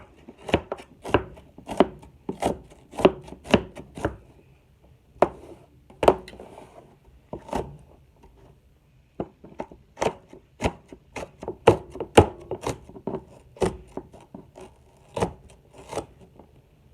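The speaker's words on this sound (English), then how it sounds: "I could have cut up this onion a lot easier than what I'm doing" A knife chops an onion on a cutting board in sharp, evenly spaced strokes, heard close and alone, with a short pause midway before the chopping resumes at a steady pace.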